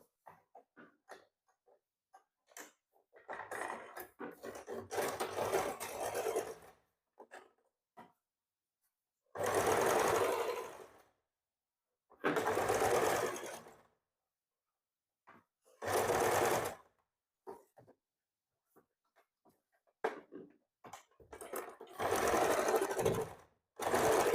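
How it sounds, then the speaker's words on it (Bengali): A sewing machine stitches the neckband onto a baby frock, running in several separate bursts of rapid whirring, each a few seconds long, with quiet pauses and small handling clicks between them. "দেখো এখান থেকে এবার সেলাই করবো"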